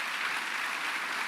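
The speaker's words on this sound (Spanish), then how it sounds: "aplaude si quiere" Steady, dense audience applause fills the whole moment at close range, with no voices over it.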